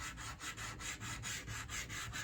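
Dry, rhythmic scratching of a chalk pastel stick dragged across paper in short repeated strokes, close and steady.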